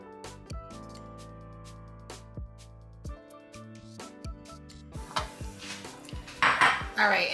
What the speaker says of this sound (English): I'm about to take it out with a slotted spoon and put it in a bowl.